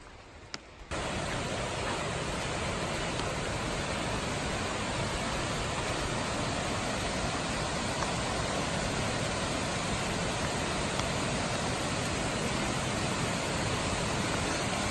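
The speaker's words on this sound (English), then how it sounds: "This is called Long Creek Falls" Long Creek Falls, a waterfall on the Appalachian Trail, roars close by in a dense, steady rush of water that starts abruptly after a brief quiet moment and continues unbroken, with no talking.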